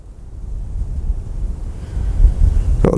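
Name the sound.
wind blowing outdoors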